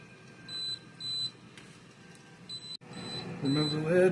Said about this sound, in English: the timer goes off to let us know that it's time to turn over the food.